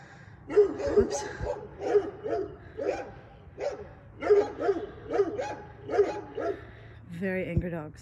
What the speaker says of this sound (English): Very angry dogs.